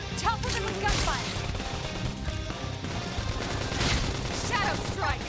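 Rapid gunfire in the mech action game Xenoblade Chronicles X, continuous crackling bursts layered over game music and effects, with a voice talking over it.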